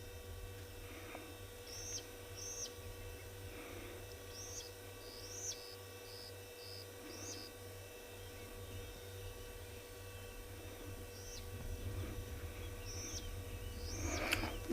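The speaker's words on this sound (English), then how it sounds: "You might hear a few birds here and there, but it's just very quiet." Scattered birds give short, clear whistled calls and chirps, spaced out across a hushed South African bush morning on safari, with a low steady hum underneath and no talking.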